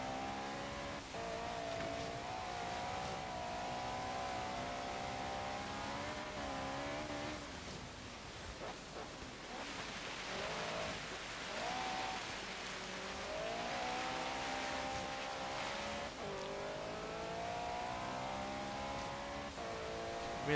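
A 2016 Vauxhall Corsa VXR in Forza Horizon 3 on a snowy hill climb, its engine note rising and falling through gear changes and revs, sustained and fairly close with brief dips between pulls.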